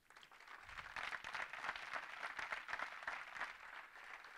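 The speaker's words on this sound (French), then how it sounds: "je voudrais que vous applaudissiez très fort un monsieur" A seminar audience in France applauds loudly, a dense, fluttering mass of clapping that swells in quickly and holds fairly steady, recorded from a slight distance.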